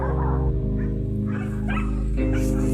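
Hunting dogs bark and yip excitedly close by at a black wild boar in a forest, over a steady low drone, with overlapping high-pitched yelps and whines throughout.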